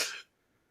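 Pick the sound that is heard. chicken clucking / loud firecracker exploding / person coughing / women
person coughing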